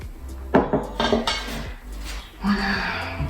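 Natural soap batter is scooped from a pot into a container, a run of scraping clinks and knocks of a utensil against the pot's sides, close and fairly loud, with no talking.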